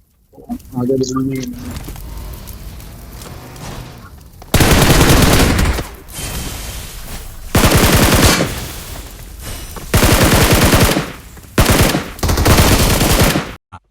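Gunfire in the mobile battle royale game BGMI comes in loud, close bursts of automatic fire that alternate with quieter stretches, after a brief opening of voice-like sound.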